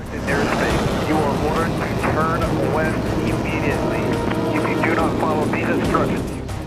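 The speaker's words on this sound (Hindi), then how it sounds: "पंजाब और जोधपुर से सुखोई 30 MKI के फाइटर जेट्स ने उड़ान भरी" Sukhoi Su-30MKI fighter jets in flight give a loud, steady roar of engine noise that fills the whole clip, with a voice talking over it.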